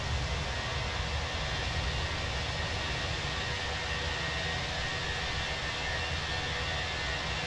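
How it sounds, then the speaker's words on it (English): Steady, loud roar of an airliner's IAE jet engines in a flight simulator game, with broad whooshing hiss and a low rumble, constant throughout without variation. "Really love that distinctly different sound out of the IAE engines."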